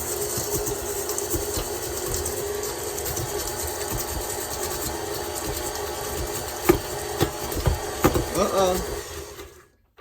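An electric mixer churns oatmeal chocolate chip cookie dough with a steady motor whir, a few louder knocks and rattles near the end before it cuts off abruptly.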